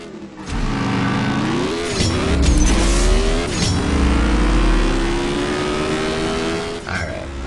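Nissan GT-R racing in the mobile game CSR 2, its engine revving loudly with rising pitch sweeps through the gears, a brief dip near the start and another shift near the end, continuous and close.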